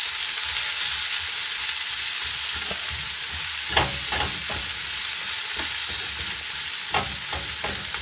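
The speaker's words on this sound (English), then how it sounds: "and I'm just doing some onions." Onions fry in a pan on a boat's stove, a dense, steady sizzle with occasional sharp stirring scrapes and taps, close and continuous with no voices.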